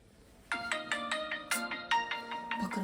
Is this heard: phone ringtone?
yes